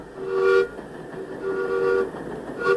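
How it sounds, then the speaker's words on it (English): A backyard model steam train engine sounds two short tonal whistle toots with a longer one between, fairly loud over a low running rumble. "the engine that pulls his backyard model train"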